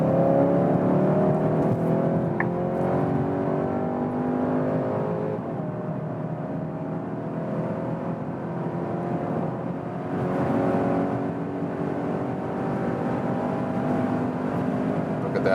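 A 2021 Skoda Octavia RS engine pulls hard from inside the cabin, a steady rising drone with shifting engine tones, heard close and loud throughout.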